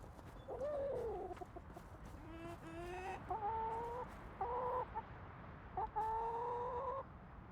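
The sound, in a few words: chickens clucking in the video game Gloria Victis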